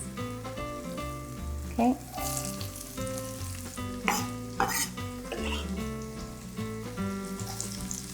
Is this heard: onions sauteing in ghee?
yes